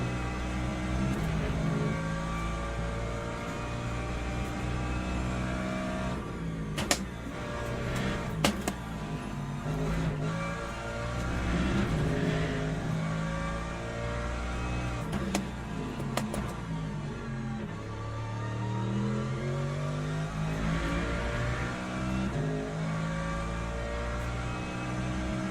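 Mercedes race car in the video game Le Mans Ultimate, a steady engine drone with rising and falling pitch as it shifts and accelerates, plus a few sharp clicks, continuous throughout.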